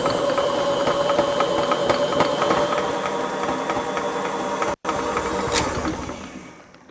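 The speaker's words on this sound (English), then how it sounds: "turn it up to high, and we're gonna let it knead with the bread hook for 5 minutes" A stand mixer running on high speed kneads King Cake bread dough with a dough hook, giving a steady close mechanical whir with rapid gear-like clicking throughout and a brief dropout near the end. No one speaks.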